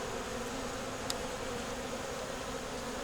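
A hive of honey bees repairing wax moth damage hums in a steady, even buzz close by, with one brief sharp click partway through and no speech.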